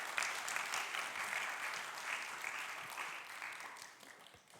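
A church youth congregation applauds at a Sunday service, a dense, moderately distant round of clapping that tapers off over a few seconds.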